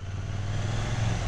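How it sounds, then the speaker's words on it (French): A 2020 KTM Duke 790 A2 (790L, 35 kW) motorcycle idles with its stock exhaust, producing a steady, low, throbbing rumble held at an even level for the whole short stretch. "Alors on va écouter le pot."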